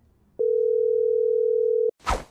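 A phone dial tone heard while placing a call: one steady, loud, pure electronic tone lasting about a second and a half, cut off abruptly and followed by a short burst of noise.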